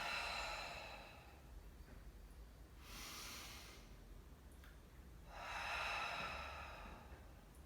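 Slow, soft breathing from a pregnant woman doing seated Pilates shoulder lifts, with two audible breathy exhalations spaced a few seconds apart, quiet and close with no talking.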